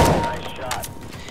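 A single Counter-Strike: GO gunshot cracks loudly at the start, then its echo fades quickly.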